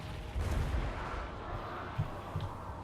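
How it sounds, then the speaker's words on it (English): Artillery from a Skaven army in Total War: Warhammer 2 pounds away in the distance, a few muffled low booms and thuds spaced irregularly over a faint battlefield rumble. "we just mercilessly bombard them with our artillery"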